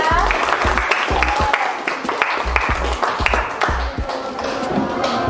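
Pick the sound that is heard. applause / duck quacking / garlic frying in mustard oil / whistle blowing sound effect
applause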